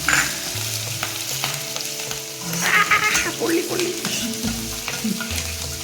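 Garlic and green bird's-eye chillies fry in a hot pan, a close bright sizzle broken by repeated scraping stirs of a spatula, with a low background hum.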